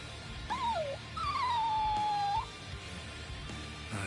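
A dog whimpers in the video game Bleach Rebirth of Souls, two close, high, wavering whines, a short one and then a longer drawn-out one, over quiet background ambience.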